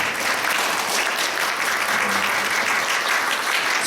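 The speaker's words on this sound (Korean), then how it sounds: "두 어머님 위해서 한번 박수로 또 격려해 주시고" A church congregation at a Sunday worship service applauds to encourage two departing mothers, producing a loud, dense, even roar of many hands clapping continuously throughout, with no speech over it.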